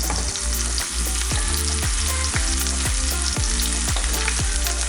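Garlic, ginger and halved chilies fry in a pan with a loud, constant sizzle, while a utensil stirs in a steady rhythm of close, regular scrapes.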